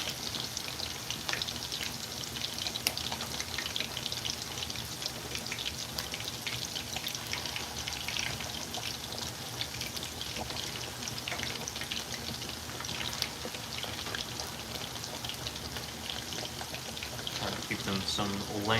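Swedish meatballs fry in a pan with a constant dense crackle and spatter, steady throughout and close, under a low background hum.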